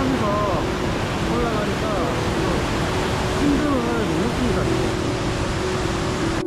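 A waterfall pours beside a wooden-deck mountain trail at Seoraksan in the rain, a steady broadband rush of water while a person speaks over it.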